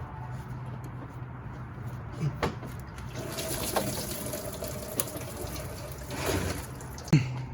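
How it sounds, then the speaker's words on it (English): Coolant water gushes and splashes out of the radiator of a 2013 Dodge Avenger 2.4 during a radiator replacement, a continuous nearby watery rush with a few sharp clanks and knocks over it. "now let's get ready for the water to gush out"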